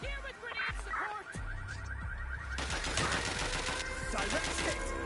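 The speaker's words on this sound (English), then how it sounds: "Shots fired! Here with grenade support!" Gunfire and grenade blasts in Watch Dogs: Legion: scattered single shots early, then a dense burst of rapid automatic fire and sharp impacts, moderately loud, mixed with faint tonal game sounds and no clear speech.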